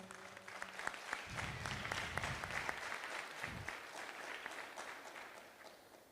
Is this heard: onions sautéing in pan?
no